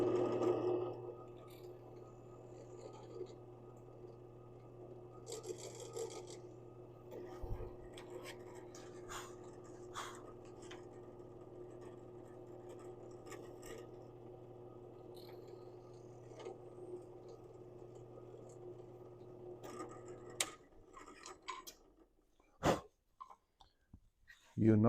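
A power drill whirs steadily through wood for about twenty seconds, then stops, followed by a few scattered knocks and handling sounds.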